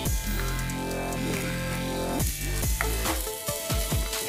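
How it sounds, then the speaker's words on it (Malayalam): Crushed ginger and garlic sautéing with onions in a pan, a continuous bright sizzle with occasional stirring scrapes, close and steady with no talk. "ഇഞ്ചിയും വെളുത്തുള്ളിയുടെയൊക്കെ ഒരു പച്ച ടേസ്റ്റ് പോകുന്നതിന് ഒന്ന് വഴറ്റി കൊടുക്കാം"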